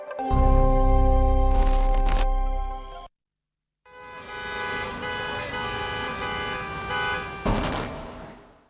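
Bangalore city street traffic with loud sustained car horns blaring, several overlapping honks before a short silence, then steady traffic noise with more horns and a sharp burst near the end.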